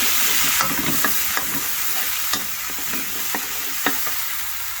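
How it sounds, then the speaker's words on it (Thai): Coconut cream for Thai panang beef sizzles steadily in a hot pan, a loud continuous frying hiss up close with light scraping stirs tapping through it. "เราใส่หัวกะทิกันไปหน่อย"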